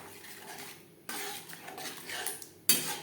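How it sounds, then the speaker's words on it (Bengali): Yogurt mixture being stirred into spices in a pan for bhetki fish kalia, with soft scraping and a faint sizzle, a spoon knocking the pan midway and a sharp metallic clink at the end. "টক দইয়ের মিশ্রণ মশলার সাথে বেশ ভালো করে মিক্সড করে দেব"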